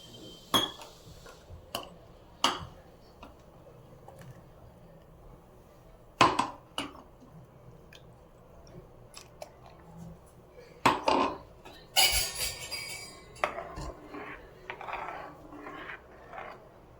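A spoon clinks and scrapes against a metal pot while ridge gourd curry is stirred and ground paste is added: sparse, sharp metallic knocks spread out over quiet background, a few clustered together near the end.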